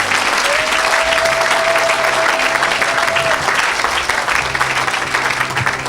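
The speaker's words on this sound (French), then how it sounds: "Clap your hand for the Lord." A church congregation claps steadily and loudly throughout, a dense continuous applause with a sustained musical tone briefly rising above it.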